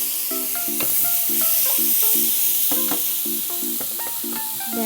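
Squid hits a pan of browning onions with a steady, loud close sizzle and the scrape of stirring throughout, a faint tonal hum running underneath, no voices.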